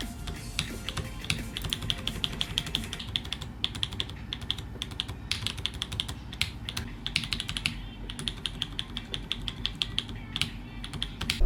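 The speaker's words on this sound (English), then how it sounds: "I'm just gonna leave the rubber in the keyboard and try to use it for a few days." Steady run of keystrokes on a computer keyboard fitted with a rubber ring inside, close and continuous with dense clicky taps and brief pauses, no talk.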